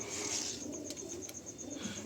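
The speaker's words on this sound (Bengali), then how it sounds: "যে সমস্ত পায়রা আপনারা দেখছেন এগুলো কিন্তু সব বাড়ির পুরাতন পায়রা অ্যান্ড বহু দিনের পায়রা" Old domestic house pigeons, including males, coo softly nearby, their low murmuring calls blending with light chirping from other birds in a quiet setting.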